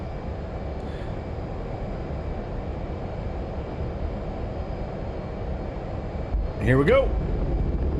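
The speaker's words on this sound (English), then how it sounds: "We got afterburners on." A video-game fighter jet's afterburners roar through a carrier catapult takeoff, a steady loud wash of engine noise throughout, with a voice speaking briefly near the end.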